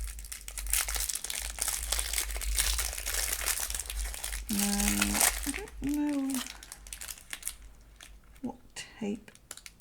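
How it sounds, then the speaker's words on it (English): Washi tape packaging being unwrapped, crinkling plastic wrapper rustling close up in bursts, with a person talking throughout. "Let's unwrap these washi tapes and put them in my swatch book."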